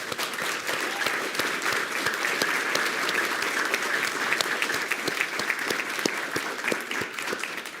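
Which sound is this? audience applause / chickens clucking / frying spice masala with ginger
audience applause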